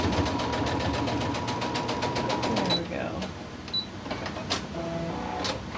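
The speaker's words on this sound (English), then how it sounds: "It's working the machine pretty hard going through all those layers" A sewing machine stitching through thick quilt layers runs in a fast, steady, strained mechanical rattle for a few seconds, then slows and stops, followed by a few scattered clicks and handling sounds.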